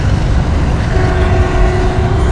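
An Indian Railways train rumbles loudly and steadily close by, a continuous heavy roar with a faint tonal whine rising over it.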